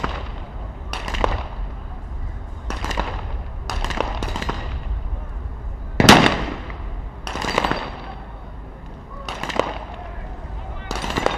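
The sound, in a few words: sniper rifle shots at SWAT challenge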